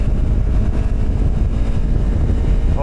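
Honda CRF300L Rally single-cylinder motorcycle engine pulling hard in fourth gear up a very steep slope at about 50 km/h, a steady loud drone smeared with heavy wind buffeting, no talk.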